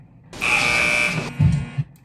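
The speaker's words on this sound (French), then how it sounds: "il y a une alarme qui retentit et qui nous fait comprendre il faut se taire" A loud electronic buzzer alarm on a TV series set blares steadily for about a second, then cuts off, followed by a few low thumps and rustles.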